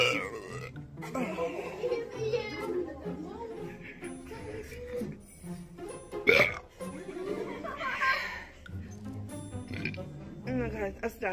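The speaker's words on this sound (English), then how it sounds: "I can't burp too much." A woman burps loudly in a classroom. Several deep, croaking belches and hiccup-like gulps come close up, with laughter and talk between them.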